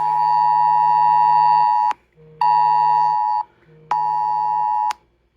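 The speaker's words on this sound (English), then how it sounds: "That was a notification from the nationwide notification." A nationwide emergency alert notification tone on a phone, a loud, harsh steady beeping tone repeated in three long bursts, each about one and a half seconds, separated by short gaps, close and alone.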